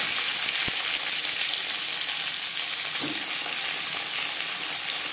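Cut pumpkin pieces frying in refined oil, a continuous close sizzle with a brief clack and a slight swell as the pieces settle in the pan.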